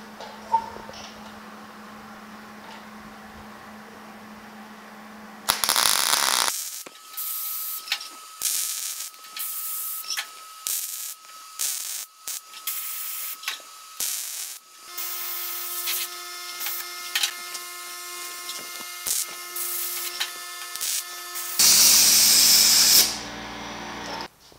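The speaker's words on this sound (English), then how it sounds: "then we'll get this thing tacked and then welded" A patch panel being welded onto the inner door of a 1950 Chevy truck, with a long series of short crackling, hissing tack bursts in an uneven rhythm, fairly close and loud, broken by brief pauses and a steady background hum.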